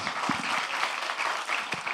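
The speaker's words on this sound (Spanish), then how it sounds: "un aplauso para Víctor." Audience clapping after a talk at an educators' congress on games, a dense, sustained round of applause that holds steady from start to finish.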